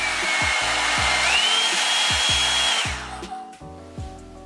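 A Revlon One-Step hair dryer runs on its high setting with a loud, steady airy roar and rising whine, with rhythmic low thumps underneath, then fades down near the end while the thumping continues, no voices.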